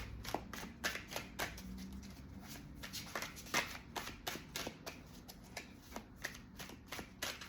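Small animal picture cards shuffled by hand, a quick run of close, crisp riffling snaps and soft slides repeating irregularly over a quiet room.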